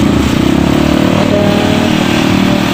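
A motorcycle passes close by on a street in Bontang, its engine a loud, steady drone that fills the whole stretch with no talking.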